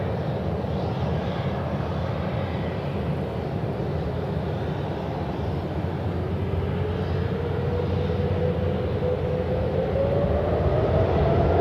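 An Emirates airliner taking off from runway 16 right at Sydney Airport at night, a loud, sustained jet engine roar with a rising whine as thrust builds, heard alone with no talk.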